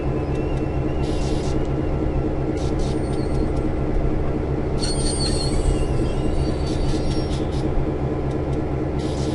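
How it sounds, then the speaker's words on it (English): A heavy freight train hauled by two diesel locomotives over Donner Pass in Train Simulator rumbles steadily and loudly, with intermittent high metallic wheel squeals cutting through the continuous drone. "it took 2 diesels just to move this heavy train over the mountain and back down again"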